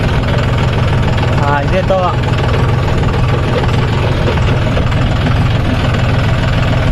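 A John Deere 5050 D 4WD tractor engine running with a steady, low, rumbling drone outdoors, while someone briefly speaks over it.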